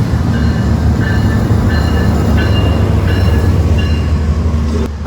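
The Gajayana passenger train, arriving from Blitar, rumbles steadily at Gambir station in Central Jakarta. Regular clicking wheel beats ride over a low continuous drone, close by and with no voices.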